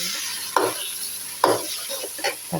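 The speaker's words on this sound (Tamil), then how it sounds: "நல்லா வதங்கிடுச்சு" Onions sautéing in a pan for egg podimas, a steady sizzle broken by a few distinct scraping stirs of a spatula, close and moderately loud, no voices.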